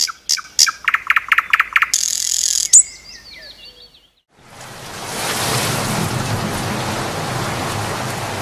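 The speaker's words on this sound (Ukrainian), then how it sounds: "А це спів пташок, що повернулися із вирію." Birds returning in spring chirp in a quick, rhythmic series of bright tweets, then fall quiet before steady rain rises and patters on for several seconds.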